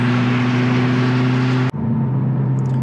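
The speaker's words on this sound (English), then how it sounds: "Let's do an acceleration. Just a little one." A Honda Type R car engine, not fully warmed up, heard from inside with the window down, drones loudly and steadily, then a brief gear-change dip leads into a continued, slightly lower engine hum.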